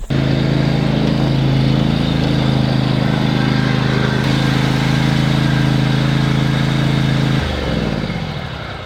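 Loud, steady drone of a lawn mower engine running close by, holding pitch before winding down near the end.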